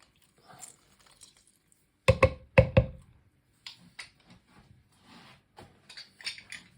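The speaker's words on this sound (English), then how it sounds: "I get my lemon squeezer and I'm gonna squeeze out this lemon juice" Half a lemon is pressed in a lemon squeezer for berry juice, giving a cluster of sharp close clicks and squishing knocks in quick succession, followed by scattered faint taps and drips.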